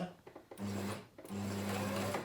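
A sewing machine stitching fabric runs in two short bursts of steady motor hum with rapid needle clatter, close and clear, separated by a brief pause with faint handling sounds.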